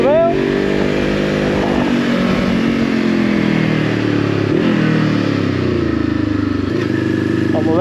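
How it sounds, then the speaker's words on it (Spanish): A 2023 VOGE 525 ACX motorcycle engine drones steadily through curves, its pitch rising and falling as the throttle opens and closes, loud and close throughout with a brief dip near the middle. "Como veis, la moto va perfecta."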